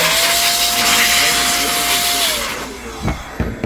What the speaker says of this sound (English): I take my blower